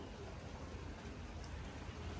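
Steady rain falls during a pigeon race, a dense even patter that holds at the same loudness throughout with no voices over it.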